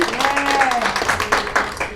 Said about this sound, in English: So let's give him a round of applause once again